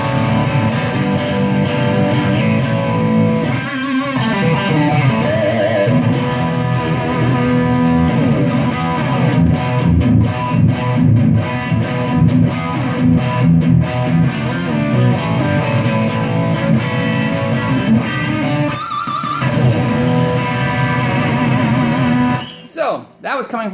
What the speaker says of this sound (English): Let's go to some distortion.